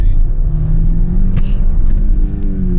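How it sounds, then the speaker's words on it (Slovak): A Tesla car driving along a narrow road, heard from inside as a steady low rumble with faint road noise throughout, no distinct acceleration. "Toto som hlavne urobil preto, aby ste počuli zvuk toho auta."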